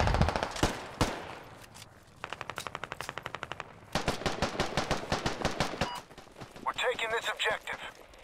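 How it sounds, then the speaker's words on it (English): In the Squad video game, a machine gun fires a celebratory magazine dump: a rapid, evenly spaced burst followed by several louder, choppier bursts, then a player's voice speaks near the end. "Yo, celebratory mag dump."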